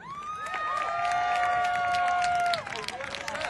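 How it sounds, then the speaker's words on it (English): A crowd cheers and whoops for Murray Sabrin, a New Jersey Senate candidate, with shrill sustained yells over dense applause, loud and close for about two and a half seconds before thinning to scattered claps. "Give him a round of applause, Mr. Murray Sabrin."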